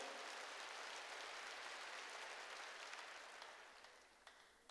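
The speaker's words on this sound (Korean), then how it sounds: "박수로 하나님께 영광 돌려야죠" A church congregation breaks into applause, a dense, hissing wash of many hands clapping at once that gradually thins and fades.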